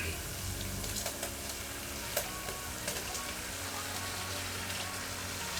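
Mutton keema going into a pan of turmeric and spices, frying with a steady, dense sizzle like light rain, with faint occasional stirring clicks throughout.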